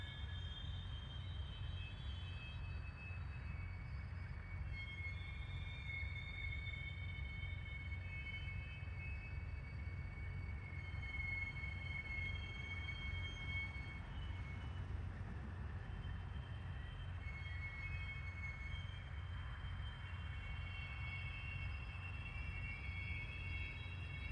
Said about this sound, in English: That looks to be a Slugset pulling those cars.